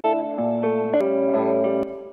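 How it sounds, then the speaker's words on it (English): A guitar passed through a reverb plugin plays a short run of sustained, chorus-tinged notes that ring into a smooth, spacious tail, clean and upfront with no voices. "This reverb is perfect for the vibe."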